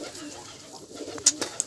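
Pigeon cooing in short soft bursts, with a few brief sharper chirps near the end over a low background.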